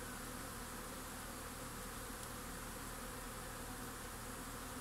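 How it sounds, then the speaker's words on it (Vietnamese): Honey bees fly around improved multi-tier box hives on a sunny day, making a dense, steady buzz that fills the air close by with no pauses. "tha hồ ong đi làm"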